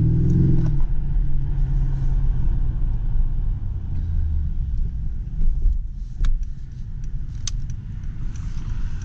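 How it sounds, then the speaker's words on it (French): A car with a 500 engine runs steadily while driving, a continuous low rumbling drone with light interior rattles and faint clicks, heard close from inside the cabin. "Le moteur c'est le 500, mais ça fait vraiment le boulot"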